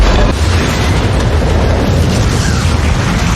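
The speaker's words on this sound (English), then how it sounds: "soon, the container would explode." A shipping container blows up in a film scene, a loud, dense, rumbling blast that fills the whole few seconds with a roaring, crackling wash of noise.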